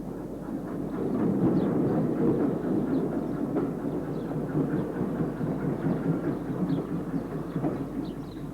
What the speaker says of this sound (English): And here's the train having returned.